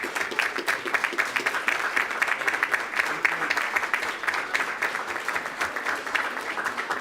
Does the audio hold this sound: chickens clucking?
no